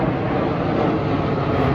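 A loud, close airplane roars overhead near an airport, a dense, steady engine rumble filling the whole brief moment without talk.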